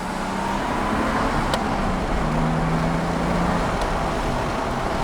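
Nissan Skyline R32 (non-GT-R) with an RB20DET engine driving, its engine a steady, loud, close drone with road roar and no talk over it.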